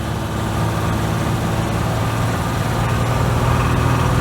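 A Ford Ranger engine started for the first time in six years runs loud and close with a steady low rumble and a light continuous rattle throughout.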